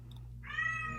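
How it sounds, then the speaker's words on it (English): A pet cat gives a single clear meow, rising and sustained, close to the microphone over a steady low indoor hum. "Sorry, my son's cat."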